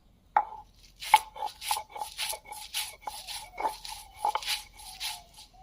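Green chillies sprinkled with salt are ground by hand on a grinding stone, producing a close, steady series of about a dozen rhythmic rasping strokes in otherwise quiet surroundings.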